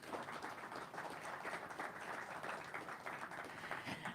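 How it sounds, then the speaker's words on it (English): An audience claps steadily in a dense, even wash of applause, welcoming the author of a book on Australia and big oil at a talk with a bookstore on hand; the clapping is somewhat distant. "Please give him a big round of applause."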